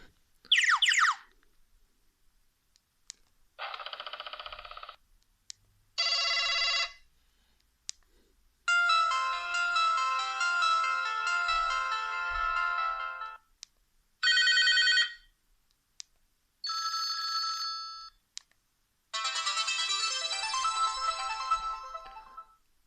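A series of different Sony Ericsson K608i mobile phone ringtones, each short burst of electronic melody or chimes separated by brief silences, fairly close and clear.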